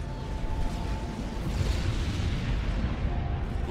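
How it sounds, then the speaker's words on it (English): A continuous low rumble of carpet bombing explosions in Halo Wars, heavy and sustained with swelling booms and no clear breaks. "The carpet. Initial core bombs away."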